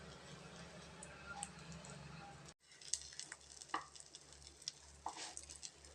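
An egg oothappam fries in a pan with a soft, steady sizzle and scattered light ticks and pops, nearby. A short break sits in the middle, and the frying then continues with sharper crackles.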